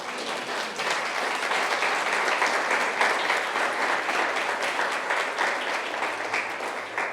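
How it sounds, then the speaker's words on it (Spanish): A church congregation applauds steadily during a sermon, an even wash of many hands clapping that holds at a constant moderate level for several seconds with no talk over it. "Dale un fuerte aplauso a Dios"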